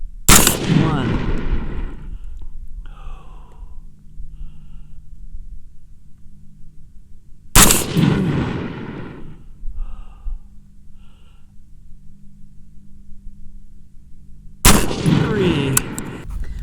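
Three sharp M&P-15 Sport rifle shots ring out at a target range, spaced several seconds apart. Each crack is loud and close with a short decaying echo, and breathing and faint movement fill the gaps between them.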